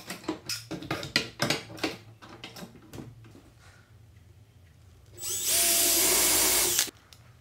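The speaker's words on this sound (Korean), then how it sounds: "클램프를 물려주고 나사못으로 한 번 더 고정해 놓습니다." A power drill drives wood screws into a wooden box held in clamps, whirring loudly for about one and a half seconds near the end, after a run of sharp knocks and handling clatter.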